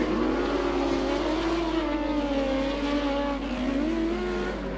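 Speedway motorcycles racing through the final turn on the last lap, a loud continuous engine drone with a gliding, slightly wavering pitch as the bikes sweep past, with no voices over it.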